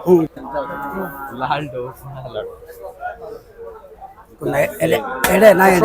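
A bull at a busy cattle market in Gabtoli, Dhaka, moos in a few drawn-out calls near the start, then people talk loudly around it while bargaining.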